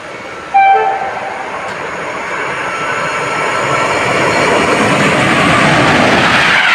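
A train roars past close by at Świniary, Poland, a brief horn blast at the start, then a loud, steady rumble of wheels building and sustaining to the end.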